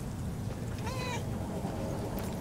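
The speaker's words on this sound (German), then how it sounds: "Oh, da ist wieder die Katze." A cat in the video game Murdered: Soul Suspect gives a single clear, drawn-out meow over a dense, steady game ambience, with no talking over it.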